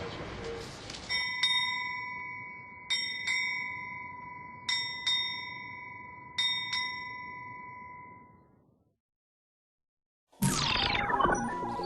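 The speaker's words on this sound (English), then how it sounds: "Request permission to strike 8 bells on time." Ship's bell striking eight bells on time at 12 o'clock: four evenly spaced pairs of clear, ringing metallic strikes with long decaying tones, loud and close, followed by a short silence.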